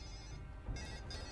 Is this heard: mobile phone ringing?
yes